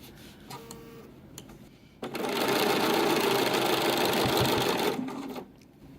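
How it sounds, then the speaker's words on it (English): Soft handling noises give way to a sewing machine stitching a double-sided baby blanket in one close, loud burst of about three seconds, which then stops and quiet handling resumes. "now I'm ready to just start stitching down, making sure to line everything up."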